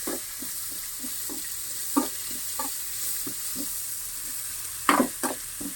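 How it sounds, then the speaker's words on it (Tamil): Onions fry in a pan until light brown, a soft steady sizzle broken by rhythmic scraping stirs every half second or so, with a couple of louder clatters near the end. "இந்த வெங்காயம் லைட்டாக ப்ரௌன் கலரில் வரணும் அந்த மாதிரி வச்சுக்கிறீங்க"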